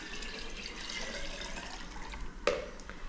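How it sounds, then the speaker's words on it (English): Dissolved sugar water poured into a jar for brewing water kefir, a broad steady liquid wash that runs for about two and a half seconds and ends with a brief clink near the close. "So as soon as it dissolves, which it has now, so then I just pour that in."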